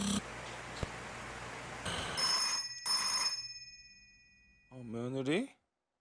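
A telephone rings with bright electronic tones in a few bursts, then a brief warbling ring, all close and fairly loud against a noisy background.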